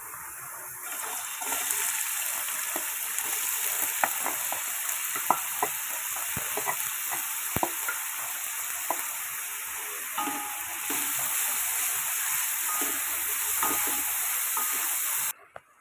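Onion sizzling in oil in a pan for a traditional Goan beef and pork stew, a steady close hiss with scattered stirring clicks and scrapes, running continuously and cutting off abruptly at the end.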